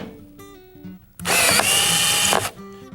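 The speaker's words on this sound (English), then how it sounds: "We have to drill the stripped holes out." A power drill bores out stripped screw holes through a door hinge, spinning up in one loud burst of about a second after a quieter whir, then winding down.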